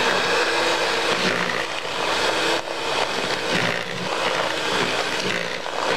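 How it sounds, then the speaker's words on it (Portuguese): An electric mixer beats refined sugar for sponge cake batter, giving a loud, steady whir that runs unbroken and close up with no voices. "Ligar a batedeira."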